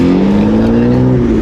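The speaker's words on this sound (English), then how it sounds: "It is loud. That's the only thing this car is." A BMW M3 with a manual gearbox revs hard and holds a loud, steady engine note close to the microphone, its pitch rising slightly as it drifts.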